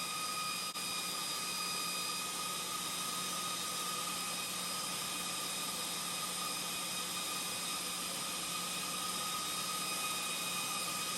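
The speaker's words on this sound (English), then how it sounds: "Pump has shut off. Fan is still running." The cooling fan of an Orcair portable PCP air pump keeps running after the compressor has shut off, making a steady, loud whooshing whir with constant tonal whine lines and no pauses.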